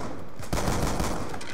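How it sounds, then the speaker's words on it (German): Gunfire bursts from a multiplayer match of the video game Call of Duty Black Ops 2, a loud rattle of shots starting partway in and continuing to the end, with no talk. "Was ist denn das für eine Knarre?"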